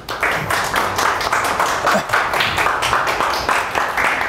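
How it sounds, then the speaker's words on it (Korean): A seminar audience gathered for an NFT conference talk claps together to welcome the next presenter, a dense, even patter of many hands sustained for several seconds, fairly loud and close, with no speech over it. "여러분의 큰 박수로 모시겠습니다"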